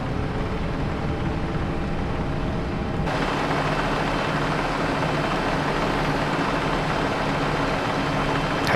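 Engine of a Kubota compact track loader in Farming Simulator 22 idles as a steady, loud low rumble with track noise, the tone thickening abruptly about a third of the way in, with no talking.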